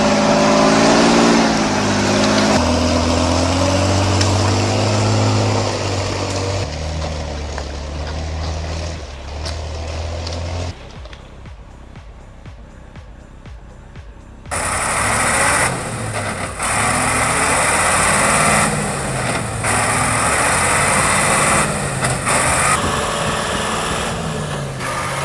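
Ural logging truck straining to haul logs through deep mud, its engine droning and labouring at varying pitch, dropping away briefly before surging back loud under heavy load.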